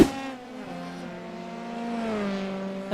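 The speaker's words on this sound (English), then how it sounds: "Oh, there's a car around. We heard a noise." Formula 3 race car in a sim racing game at the Montreal circuit, its engine droning steadily with a harmonic whine that shifts pitch as it passes, loud and close throughout.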